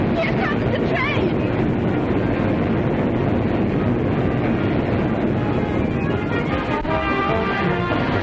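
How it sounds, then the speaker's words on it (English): Steam-era train pulling into a station in a 1938 film, a loud continuous rumble and clatter of rail cars that fills the scene, with voices heard over it. "Here comes the train!"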